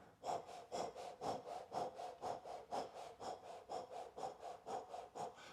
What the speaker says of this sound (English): Begin breath of fire.